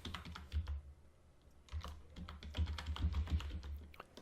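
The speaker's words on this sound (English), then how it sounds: "in the URL bar type in your" Keystrokes patter on a computer keyboard as a web address is typed into a browser bar, rapid irregular clicks in two bursts separated by a short pause, close and fairly quiet, with no talking.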